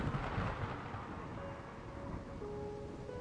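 A low, rumbling thunder roll in the dark-fantasy action game Voin, a broad steady boom that swells early and then lingers at an even level, with a faint tonal hum emerging beneath it toward the end; no talking.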